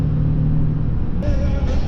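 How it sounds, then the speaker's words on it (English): A truck's engine brake holding on a long descent of the Coquihalla Highway gives a steady, loud, low droning rumble from inside the cab, with a slight shift in pitch partway through and voices talking over it. "Got the engine brake on."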